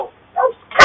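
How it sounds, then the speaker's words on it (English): A Springer Spaniel barks once, short and sharp, followed by the onset of a second bark at the cut, fairly close in an otherwise quiet space. "That's my dog, sorry."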